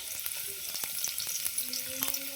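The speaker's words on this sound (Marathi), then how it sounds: "भाजी फोडणी घालूया त्याच्यासाठी मी फक्त घातलेले कांदो" Onions fry in hot tempering oil for a red amaranth curry, a close and steady sizzle with occasional crackling pops and faint stirring, heard alone without any voices.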